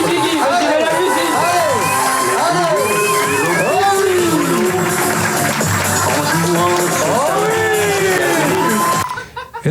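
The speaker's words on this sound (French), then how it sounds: "On applaudit Guigui." A live stage-show audience erupts in loud, sustained cheering, with whoops, shouts and excited voices layered over a dense crowd roar that cuts off abruptly near the end.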